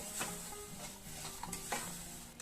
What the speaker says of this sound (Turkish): Ve helvamı kavurmaya devam ediyorum.